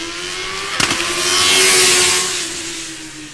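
A Formula Student race car in an acceleration run at FSG23 revs up with a sharp, rising engine note that swells loudly to a peak, then fades as it pulls away. A short burst of noise comes at the start.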